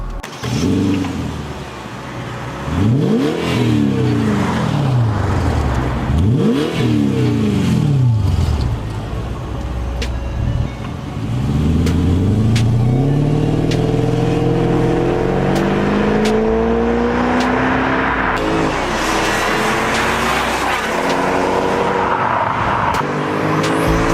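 A 2010 Mercedes-Benz CL550 accelerates through repeated gear changes, its engine note climbing and dropping in rising sweeps, loud and close from inside the car, then holding a sustained high-revving pull.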